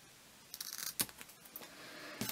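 Scissors snipping paint chip cards on canvas, a handful of quick crisp cuts in close succession, near and quiet.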